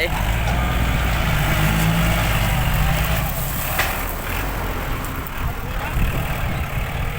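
A heavy tractor engine rumbles steadily and loudly throughout, a deep low drone with some rattling, close by and continuous.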